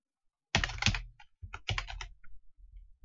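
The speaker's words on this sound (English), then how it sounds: "So I click email and then just type my email here." Close, crisp computer keyboard keystrokes while an email address is entered, coming in short rapid clusters after a half-second of silence, with brief pauses between bursts.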